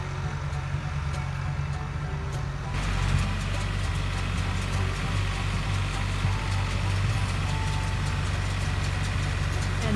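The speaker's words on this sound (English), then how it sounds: "And the baler picks up the hay in the front and compacts it inside of the machine." Farm hay baler driven slowly down rows of cut hay, with a steady loud low engine drone and machinery rumble throughout; the sound grows slightly fuller after a few seconds and continues without pause.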